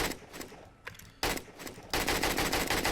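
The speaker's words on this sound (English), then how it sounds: "We've got the semi-auto. So this is going to be one shot" A semi-auto gun in 7 Days to Die fires in quick repeated shots, a few sparse cracks at first and then sustained rapid bursts that build in loudness, with no talk over them.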